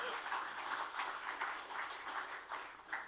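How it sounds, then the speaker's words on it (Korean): Audience applause at a gathering, continuous clapping with rhythmic swells, fairly quiet and even throughout with no talking. "박수 한번 쳐줘요."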